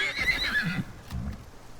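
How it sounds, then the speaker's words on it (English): A horse in the survival video game Icarus gives a short, close whinny, followed by a couple of soft hoof clops. "Oh, I hear the horse."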